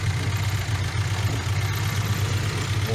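A homemade tractor powered by a petrol VAZ-2106 engine runs close by, with a steady, throbbing idle and a low rumble that holds an even rhythm throughout.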